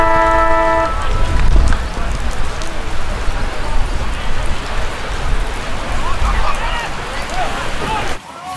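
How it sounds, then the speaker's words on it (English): Heavy rain pouring down at a local Australian football game, a dense steady hiss close by throughout, with a brief horn-like tone early on and a sudden cut at the end. "the conditions turned to worst as it was absolutely buckling down with rain"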